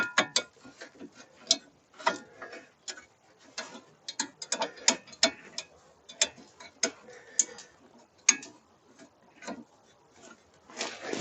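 Ratchet socket wrench, fitted with a 40mm socket, tightening the brake bolts on a car: irregular runs of crisp, close clicking, some quick and some spaced apart, clear and alone.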